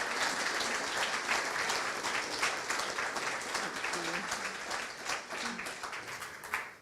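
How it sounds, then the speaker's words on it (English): Applause from a conference audience for a young panel at a Highlands and Islands green energy event, a steady dense patter of clapping held for several seconds, fairly distant and tapering off at the end, with faint voices beneath. "please, a round of applause for our young folk"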